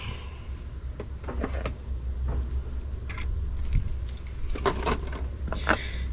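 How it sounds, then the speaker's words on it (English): A metal Ford HU198 key blank being fitted into a key cutting machine, with light scattered clicks and metallic rattles close by over a steady low machine hum. "So let me go ahead and put the key blank in real quick here."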